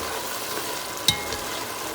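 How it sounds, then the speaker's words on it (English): A pan of beef stew hisses steadily as liquid is poured in to deglaze it, with one sharp clink of a utensil partway through and a continuous broad sizzle throughout. "I'm going to use this just to deglaze. Here it goes."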